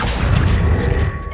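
A spell being cast in the Hogwarts Legacy video game, a dense, loud booming whoosh of magical energy sustained throughout with a low rumbling body and a brief tonal shimmer near the end.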